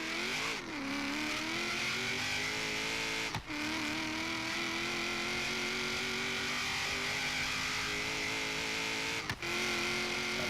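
A very light drag car, around 2,400 pounds, on a mile run at a Street Outlaws OKC event, its engine droning in a steady, loud high-pitched roar throughout, with two brief dips like gear shifts.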